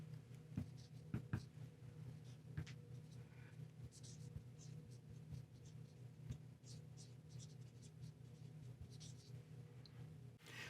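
A marker drawing on a lightboard makes soft, close scratching and squeaking strokes over a steady low hum. The strokes come in short bursts across the whole stretch.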